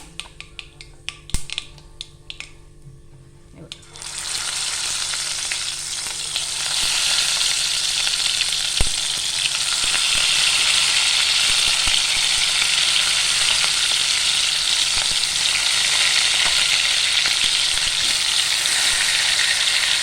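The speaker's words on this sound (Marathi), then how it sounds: "इथे तर मोहरी आपली फडफडते, त्यात आता आपण वांगी टाकून घेऊया. याला गॅस फुल आहे आता." Brinjals dropped into hot oil with spluttering mustard seeds over a full gas flame: scattered pops and crackles at first, then a loud, steady, broadband sizzle that stays strong for the rest of the time, with no talk.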